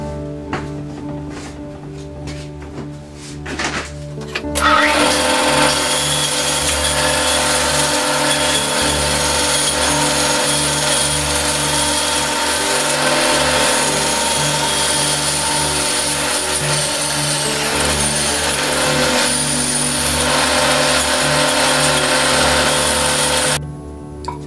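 Bandsaw cutting an acrylic slingshot backed with scrap wood, a steady loud whining buzz that runs close and unbroken for about twenty seconds after a quieter idling start, then cuts off.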